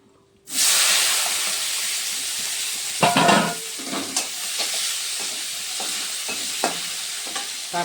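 Tomatoes hitting hot oil with five-spice seeds and two bay leaves in a home kitchen pan, a sudden loud sizzle that settles into a steady hiss with a few stirring scrapes.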